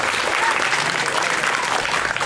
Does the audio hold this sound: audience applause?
yes